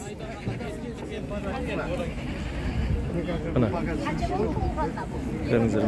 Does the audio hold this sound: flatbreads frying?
no